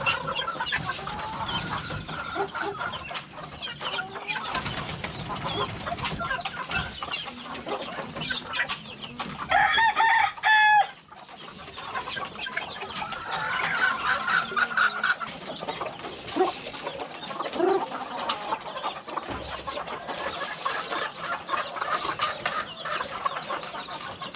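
Five-month-old stags and a rooster cluck and crow nearby on a farm, with busy overlapping clucks throughout and a loud crow partway through.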